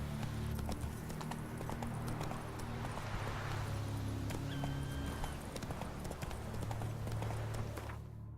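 Roach the horse's hooves clopping at a steady trot in the Witcher 3 video game, rhythmic close hoofbeats over a constant low rumble of ambient music and game background.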